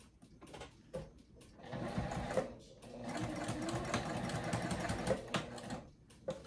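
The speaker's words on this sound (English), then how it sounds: "And I'm going to sew across there." A sewing machine stitches across a bag panel, its motor whirring steadily in a close, moderately loud run after a few short starting bursts, with a few faint clicks and no talk.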